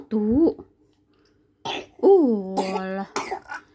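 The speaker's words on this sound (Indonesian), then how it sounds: "Kok batuk?" A baby coughs a few times just after waking in the morning, short harsh bursts close to the microphone with small vocal sounds between them.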